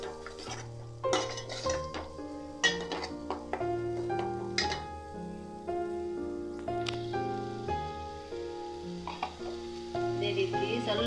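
Coconut and drumstick curry (nuge kai palya) sizzling in a pan in a village kitchen, with the ladle scraping and clinking against the pan in irregular bursts over steady close frying.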